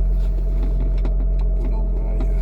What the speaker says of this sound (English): The exhaust system is a Rocket Monza, which you now hear.